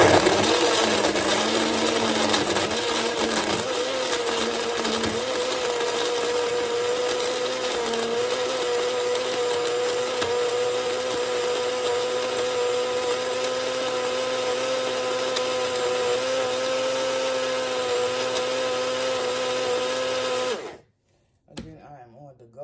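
Blender whirring steadily as it purees a smoothie with ice, a loud, continuous motor drone with shifting pitch that runs for about twenty seconds before cutting off abruptly.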